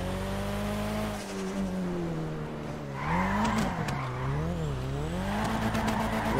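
A Nissan Skyline GT-R R34 drifts in GTA 5: a loud, close engine rises and falls in pitch while tires squeal through the slide, with no talk.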